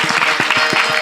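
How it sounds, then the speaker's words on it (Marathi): A short burst of audience clapping in welcome at a memorial gathering, several hands beating in a loose rhythm, close and fairly loud. "या श्रीराम दादाच्या रांगोळीसाठी एकदा टाळी वाजून स्वागत करा."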